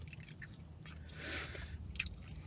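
Close, soft chewing and squishy bites of a chicken burrito during a mukbang, with quiet mouth sounds and no talking.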